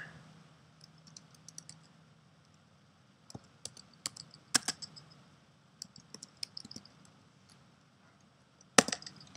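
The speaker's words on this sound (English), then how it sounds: "I'm gonna type in something" A computer keyboard is typed on in short irregular bursts of crisp key clicks, close and quiet, separated by pauses, with a louder single clack near the end.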